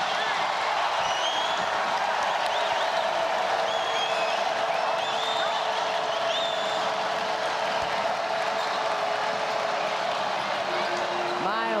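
Crowd noise rises and holds at a women's college basketball game between TCU and NC State, a broad steady roar of cheering and scattered clapping with faint court sounds, while a commentator talks over it.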